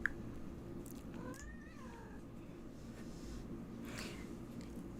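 A cat gives a faint meow with a rising and falling pitch, heard once more weakly later, over a steady low background hum, with no talking.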